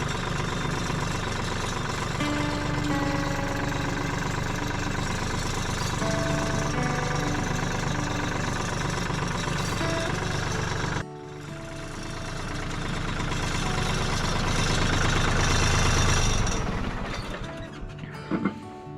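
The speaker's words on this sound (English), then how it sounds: "So I'm going to fire the tractor back up" A tractor engine idles steadily and alone for the whole stretch, a continuous mid-low rumble that dips briefly and then swells as the engine works harder before easing off.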